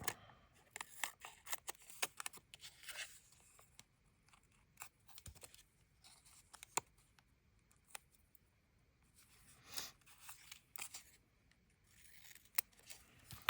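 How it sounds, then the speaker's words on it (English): Scissors trim decorated paper with a series of faint, crisp snips in irregular bursts, close and quiet with no talk. "So let's trim these. Of course, I can't cut straight."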